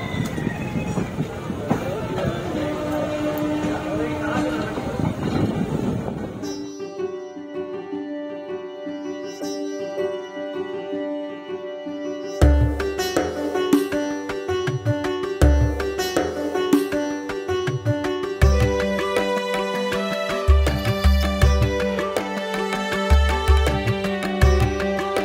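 The 03161 Kolkata to Digha special train runs along the line with a sustained rumble, drawn-out tonal horn-like and wheel-squeal notes, and a rhythmic clatter of wheels over rail joints in the later part.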